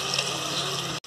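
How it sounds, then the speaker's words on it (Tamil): Tamarind solution pours into a clay pot of Sankara fish curry as a steady, close liquid rush that cuts off abruptly near the end. "இப்போ இந்த புளி கரைசலை எடுத்து ஊற்றிடலாம்."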